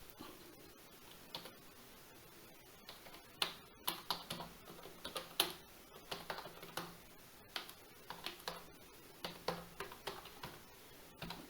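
An address is typed on a computer keyboard into an online form: soft, close key clicks come in irregular bursts and short runs, separated by brief quiet pauses.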